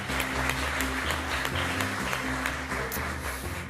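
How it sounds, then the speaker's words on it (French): Studio audience on a French television game show clapping together, a steady wash of applause with music or voices faintly underneath, sustained throughout. "Ça, on peut l'applaudir."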